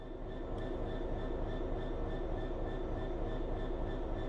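A locomotive in the Train Sim World simulator idles steadily with a continuous low rumble, a broadband hiss and a faint high tonal whine, all sustained with no talk over it.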